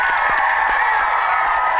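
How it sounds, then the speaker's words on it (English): Loud, dense audience applause with some cheering fills a studio for a streetball slam dunk show, steady and close from start to finish. "Big round of applause for them."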